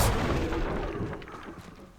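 An Incendio fire spell cast in Hogwarts Legacy lands as a single loud whooshing boom. Its roar then fades gradually over about two seconds.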